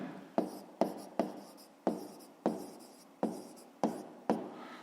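A pen writing on paper in a school math exercise, a series of about ten sharp taps and short scratchy strokes at fairly regular intervals, close and quiet with no talking.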